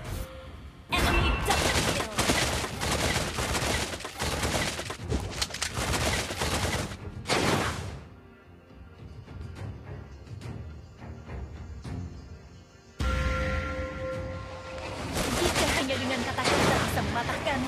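Beatrix firing her weapons in the Mobile Legends video game, dense loud volleys of shots and impacts layered with game effects and music, pausing briefly midway before resuming.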